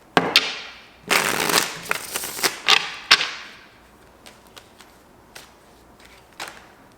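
Tarot cards are shuffled during a reading, making crisp riffling bursts and sharp flicks close by, with several quick rustles and then fainter scattered taps.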